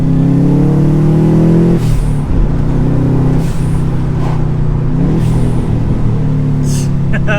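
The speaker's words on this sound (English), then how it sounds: "We just had to get some boxer noise today, man." Cheap old Subaru Impreza boxer engine revving loud and close from inside the car, a steady droning pull that breaks off into repeated shifts and re-revs, with someone talking over it.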